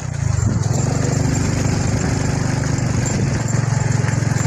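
A motorcycle engine runs steadily nearby on a rural road, a continuous low throbbing putter with even rhythm throughout.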